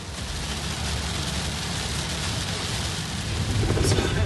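Heavy rain pours steadily onto a flooded road in Australia, a dense, continuous roar with deep thunder rumbling underneath, loud and close, with no talk.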